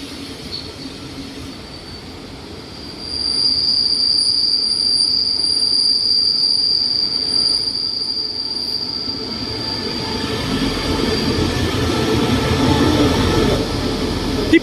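Express train 83 pulling into Bang Bamru station, with a sustained high metallic wheel squeal over a steady rumble of rolling rail cars that swells louder as it comes close.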